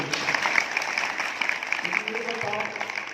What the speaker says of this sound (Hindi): आपने सच बोला, इसे आपने ताली बोलो, ताली बोलो।